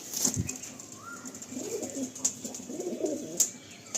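A female Andhra pigeon is let out of a loft with a brief flutter of wings, then faint coos and soft background rustling follow at a quiet, moderate distance.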